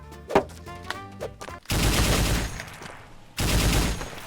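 A BTR firing in a Rust-style Roblox game: two loud, dense bursts of rapid automatic gunfire with a short gap between them, after a few sharp tonal clicks.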